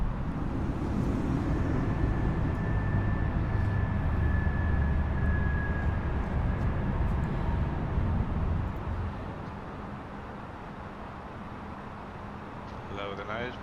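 Airbus A320neo climbing after takeoff in a flight simulator: a loud, steady engine roar with a thin high whine. It drops to a lower level partway through, and voices talk over it.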